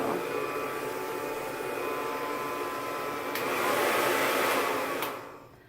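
Hair dryer fitted with a diffuser blowing on fine curly hair, a steady close whooshing hum that swells briefly in pitch and loudness before switching off near the end.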